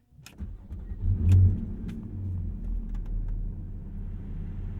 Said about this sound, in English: Oh, you can hear that induction noise.